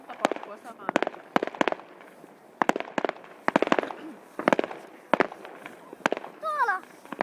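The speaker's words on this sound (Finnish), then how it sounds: "Ne laittaa monta paukkua samaan aikaan." Salvos of New Year fireworks in Vaasa, Finland, 2011, several bangs landing together in quick clusters, then gaps, with people chatting nearby between the blasts.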